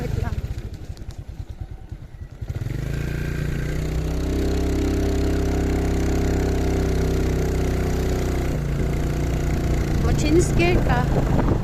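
A motorcycle engine labours hard and steadily for most of the clip, loud and close, after a rougher revving start, as if straining on a climb; people talk nearby.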